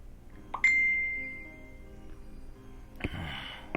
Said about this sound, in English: sorry if you guys can hear my phone going off